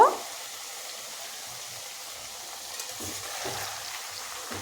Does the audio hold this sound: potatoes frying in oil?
yes